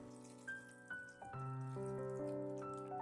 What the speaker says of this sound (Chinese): 我们先把脏水倒掉，再往里面倒入适量的清水